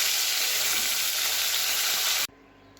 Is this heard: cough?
no